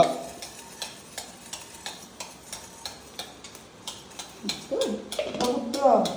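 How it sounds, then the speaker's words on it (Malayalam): Sesame seeds dry-roasting in a pan for a medicinal laddu are stirred with regular scraping ticks about twice a second, close and clear, with sizzling rising toward the end. "ഇനി അടുത്തത് എള്ള് വറുത്തെടുക്കാം കുറച്ച് എള്ള് ഇടുക"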